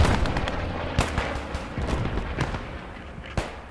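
A grenade goes off inside a building during a Squad 44 Eastern Front match, one sharp boom standing out amid a dense, continuous din of gunfire and distant blasts.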